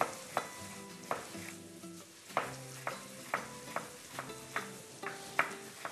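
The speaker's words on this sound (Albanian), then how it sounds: "e lëmë të skuqet paksa" Vegetables, carrots among them, fry in a pan for a bulgur dish, with a steady sizzle broken by regular sharp scrapes and knocks of a spoon stirring every second or so, close and alone.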